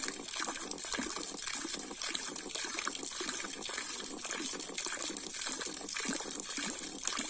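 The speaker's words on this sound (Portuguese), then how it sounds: "O carneiro de 2 polegadas trabalhando, olha só como é que mantém uma constância, porque ele tá batendo muitas vezes por minuto" A 2-inch hydraulic ram pump runs with water flowing steadily, a continuous broadband rushing and splashing with a fast, even beating pulse throughout, fairly close and without speech.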